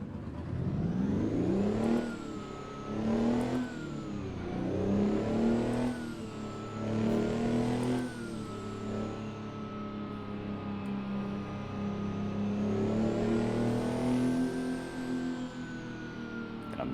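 A Kenworth W900 truck engine in American Truck Simulator, a steady loud diesel drone that rises and falls in repeated rev swells as the gears shift, heard alone without talk.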